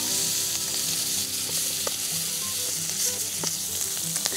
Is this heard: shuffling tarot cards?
no